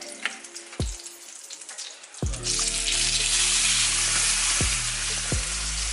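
Steak laid into a pan over high heat sets off a loud, steady sizzle that swells and holds, with a few low clanks of cookware before and during the searing.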